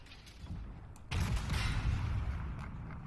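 A T-14 Armata tank gun firing in Armored Warfare, one sudden heavy blast followed by a rumbling, fading roar.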